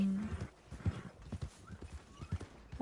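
In the Red Dead Online video game, a horse's hooves clop in an uneven rhythm with a short neigh mixed in. The sounds are close and moderately loud over a low game soundscape.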